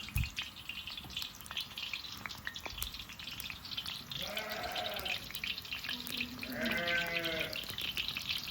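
Sheep bleat near an outdoor wood-fired kazan where Uzbek soup is cooking. Two wavering bleats come a couple of seconds apart over a steady background hiss.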